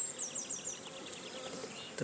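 Honey bees hum steadily inside a beehive colony in spring, a close, continuous buzzing drone with faint higher chirping notes over it.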